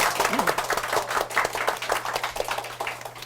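Audience applause for a guest introduced at an ICT career mentoring talk event, a steady patter of many hands clapping close by with a low hum underneath.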